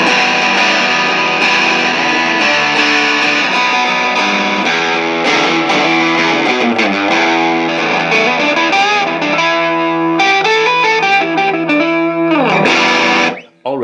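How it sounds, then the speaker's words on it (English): Electric guitar played through a Pro Co Rat 2 distortion pedal set to a low gain level, giving loud, continuous, buzzy and bright sustained chords and riffs with no talking, cutting off abruptly at the end. "Already at this low level of distortion, I feel like it's a lot more overbearing and just electric and a lot more high-end"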